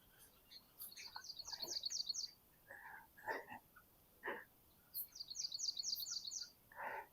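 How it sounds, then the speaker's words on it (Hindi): A bulbul sings in quiet surroundings with two bursts of rapid, bright trilled notes, separated by scattered short chirps and calls that sound fairly close. "बुलबुल"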